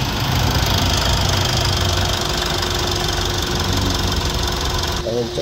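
Mitsubishi Montero engine idling after intake manifold, throttle and EGR valve work and an oil change: a loud, steady rumbling idle with a faint knocking texture, close to the engine, with voices talking over it.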